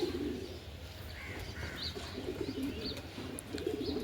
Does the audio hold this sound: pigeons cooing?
yes